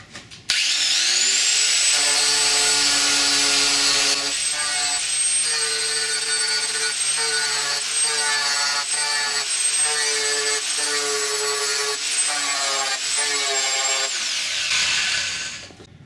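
A power sander strips old body filler from a car body panel, giving a loud, steady whine with a shifting pitch for about fourteen seconds before cutting off.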